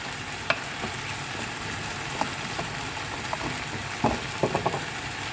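Carrots and tomato sizzle steadily in a hot pan for a rice dish, a continuous frying hiss with occasional small pops and stirring clicks, close and alone without talk.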